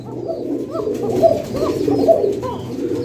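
A male fancy pigeon coos close by, a loud, continuous low rolling murmur with repeated throaty swells and no talking.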